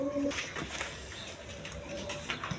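Pigeons coo softly in a loft, a Kaldom male and a khaki-necked female, with low murmuring calls under some background noise and a faint distant voice.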